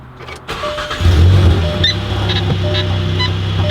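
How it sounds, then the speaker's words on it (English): A VW MK7 GTI engine cranks and fires up, then settles into a loud, steady idle with a low rumble, heard close and alone. "hopefully when I start this car, everything will work well"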